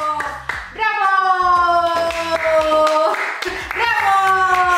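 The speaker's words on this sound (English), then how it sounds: "Yo, Milan was clapping." A child claps his hands at home in a run of close, crisp claps with small pauses between them. Several people talk and laugh loudly over and between the claps.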